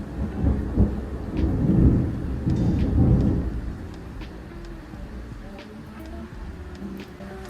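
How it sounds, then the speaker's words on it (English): A heavy, rolling thunder rumble builds through the first few seconds, then fades into a quieter low wash of storm and rain with scattered faint ticks. "Oh, thunder."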